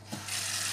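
Cold tap water runs into a kitchen sink to cool drained boiled beans. The flow is a steady, close, broadband rush that starts quickly and continues without talking.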